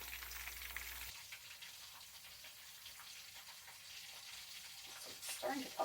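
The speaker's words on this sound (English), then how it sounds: "a couple of these pieces of tofu and start to fry them" Pieces of tofu fry in hot oil, a soft continuous sizzle and crackle heard close up, fairly faint, with no talking.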